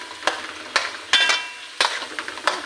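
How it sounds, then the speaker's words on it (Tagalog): Bagoong alamang shrimp paste sautéing with pork for pinakbet, a soft sizzle broken by several sharp spatula scrapes and stirring clacks against the pan at uneven intervals, close up. "Ang ating bagoong na ginisa para sa pinakbit."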